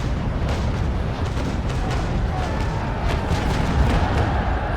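A broadside of ship's cannons fires in the naval combat game Naval Action, a dense continuous rolling roar of booms layered over each other, loud and sustained without a break.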